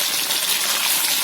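Mushrooms frying in hot oil for mushroom 65, a loud, dense hiss of sizzling that stays steady and close throughout the short stretch.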